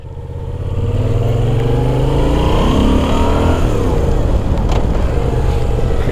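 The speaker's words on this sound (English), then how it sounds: "Just revving the bike up, the throttle feels super cool, man." A Moto Guzzi V7 Racer cafe motorcycle's engine revs up loud and close, climbing steadily in pitch and then holding a sustained high drone with no talking over it.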